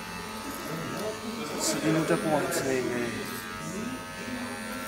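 An electric hair clipper buzzes while trimming short hair at the sides of a head, a steady close whine that swells in the middle, under continuous talking.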